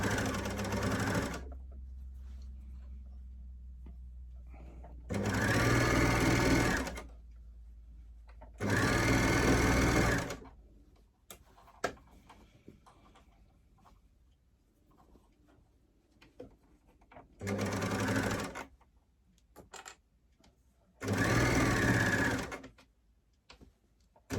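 A sewing machine stitches a T-shirt shoulder seam up to the neck edge in several loud, rapid runs of whirring, separated by quiet gaps filled with faint handling noises.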